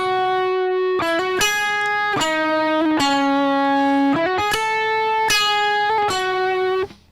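Electric guitar with reverb and delay switched off, played in an ambient worship style: a sequence of clear chord strikes and held notes that stop dry and direct, sounding close and steady before cutting off abruptly at the end.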